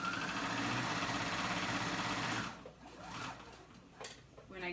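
A sewing machine stitches a dress pocket, a dense steady mechanical whir running continuously for the first half before stopping, leaving quieter handling sounds and low room noise.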